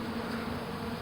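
Honeybees searching around near a swarm, a continuous close buzzing hum with steady intensity, brief and uninterrupted.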